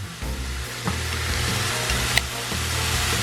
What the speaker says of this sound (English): Okay, so I'm browning my ground beef